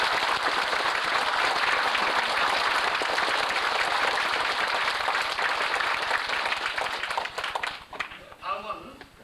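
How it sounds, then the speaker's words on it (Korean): Sustained crowd applause fills a hall at a 1995 district party founding rally in Songpa, Seoul, a dense steady roar of many hands clapping for about eight seconds before tapering off into scattered claps and faint voices. "우리 유천호 위원장님께도 박수 한번 보내주십시오."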